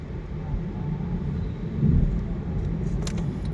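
Steady road traffic rumble with cars and motorcycles passing along a Thai road on the way to an evening market, a slightly louder pass swelling near the middle, continuous and moderately close.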